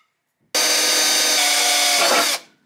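A power drill bores a hole into a plastic waterproof box, a loud, steady, high whine lasting about two seconds before spinning down, close up and alone.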